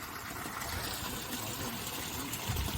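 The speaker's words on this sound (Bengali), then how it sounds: "আমাদের সোলার পাম্পসেট তার নিজের ভূমিকা পালন করে চলেছে, জল তুলে যাচ্ছে" Water gushes steadily from a 5 HP solar pump set running outdoors on an overcast afternoon, a dense continuous rush that stays even in loudness from start to finish.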